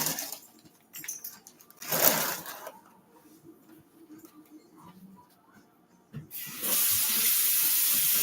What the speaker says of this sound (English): Trying to rinse the sink where I dumped some of the chicken juice that was in the bag